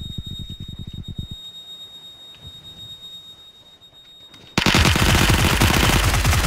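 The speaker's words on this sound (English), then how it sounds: "Someone's sniping." Gunfire from the battle royale video game PUBG: a burst of rapid shots at the start, a quieter stretch with a steady high electronic tone, then a loud dense run of shots near the end.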